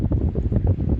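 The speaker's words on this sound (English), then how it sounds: "Windy." Steady, loud low rumble and buffeting of wind across a microphone while biking outdoors, continuous throughout with no talk.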